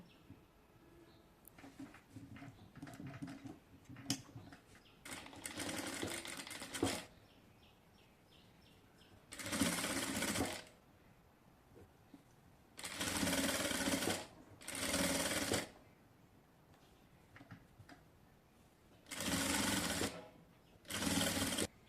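A sewing machine stitching a folded quarter-inch hem on designer pants, running in several short bursts of one to two seconds between quiet pauses with faint handling and fabric rustle, close and moderately loud.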